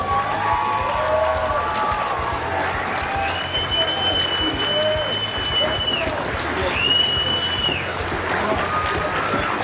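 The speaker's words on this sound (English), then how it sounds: "give them a nice round of applause." A crowd applauding and cheering in a large, echoing space at a WAKO kickboxing event, USA vs Poland, steady and sustained, with an amplified announcer voice and whistle-like tones over the din.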